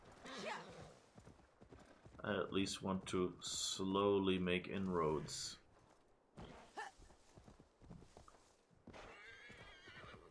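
A horse in the video game Assassin's Creed Valhalla whinnies loudly and close, with scattered hoof clops and movement around it, while someone talks over the game sounds.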